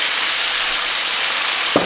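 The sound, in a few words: chicken frying in a karahi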